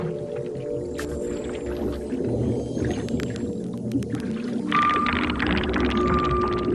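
Arctic whales calling underwater beneath sea ice, with a rich mix of whistles, clicks and rising chirps layered over a constant watery rumble, loud and close.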